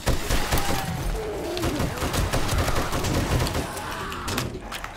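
Rapid machine gun fire in the video game 7 Days to Die, a dense continuous stream of shots and booms at close range, without any talk.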